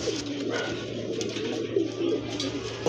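A held pigeon coos softly at close range, a few low throaty coos over faint background noise.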